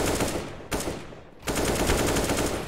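An HE grenade blast and rapid gunfire in a CS:GO collegiate championship match: dense, loud bursts of shots fill the clip, with a brief lull before the firing resumes.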